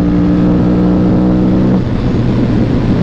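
An Aprilia RS457 motorcycle engine drones loudly while riding, a steady humming tone that shifts pitch midway as the revs change, with wind noise behind it and no speech.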